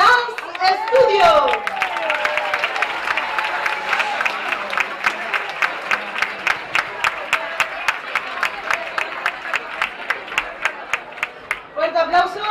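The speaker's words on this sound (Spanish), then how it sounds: "quiero que recibamos de nuevo con un gran aplauso a la compañía Origen Dance Studio" At a community festival in Antequera, an audience claps in unison for the Origen Dance Studio dance company, sharp rhythmic claps repeating evenly for several seconds, with crowd noise and voices at the start and end.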